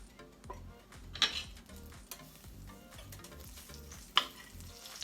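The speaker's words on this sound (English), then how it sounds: "So I'm heating up the butter in the frying pan" Butter melting in a medium frying pan gives a soft, steady sizzle, broken by a few light ticks and clinks and one or two sharper taps from a utensil, with no voices.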